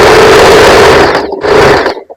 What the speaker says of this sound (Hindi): अब यहाँ पर हाफ इंच का मार्जिन रखते हुए अब हम यहाँ पर सिलाई लगाएंगे